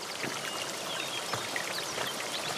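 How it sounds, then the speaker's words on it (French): Spring water wells up and trickles among rocks at the source of the Guadalquivir river, a steady close babbling stream with scattered splashy drops throughout. "por el que brota el agua del río Guadalquivir"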